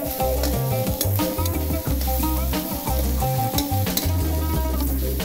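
Red hot chili pepper frying in oil for buckwheat pilaf with fish, a loud continuous sizzle with stirring and scraping throughout, no voices.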